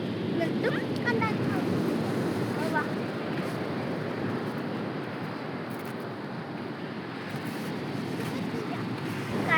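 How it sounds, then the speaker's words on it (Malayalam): Rough sea surf washing onto a beach, a dense continuous roar of breaking waves with wind buffeting the microphone throughout. "കടൽ കുറവായിട്ടില്ല."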